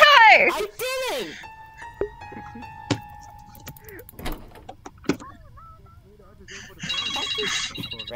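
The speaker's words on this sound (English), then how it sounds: "you better pick up that phone call" A phone rings in the VRChat video game, its electronic tones repeating in short bursts among other game noises and clicks, with voices talking in the background.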